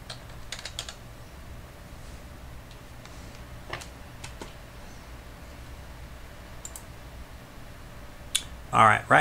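Scattered key clicks tap on a computer keyboard at a prebuilt desktop PC, sparse and fairly quiet against a low room hum, with a short burst of louder noise at the very end.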